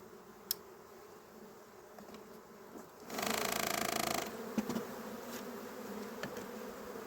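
Honey bees buzzing near a hive frame during honey extraction at an apiary, a steady moderate hum with a louder, denser swell of buzzing for about a second in the middle, plus a few faint clicks.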